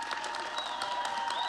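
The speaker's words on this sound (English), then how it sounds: "let's give one last round of applause for Tony Oliver and Shizuka Kurosaki." Audience applause at a Fate 20th anniversary showcase event at NeueHouse Hollywood, a steady roomful of clapping heard at moderate distance with faint crowd noise mixed in.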